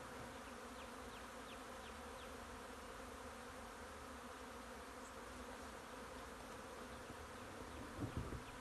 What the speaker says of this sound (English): I gotta get a picture of all those bees around Danny